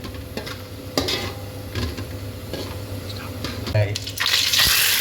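Cumin seeds frying in oil for tomato rice, a close sizzle with scraping stir strokes and clinks, a brighter burst of crackle near the end.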